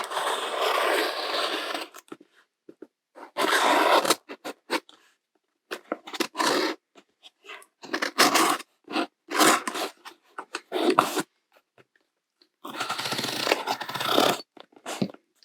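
A craft knife slicing through packing tape on a cardboard subscription box of stationery, heard as several close, loud scraping and ripping strokes in bursts, with short gaps and small scratchy cuts between them, no voices.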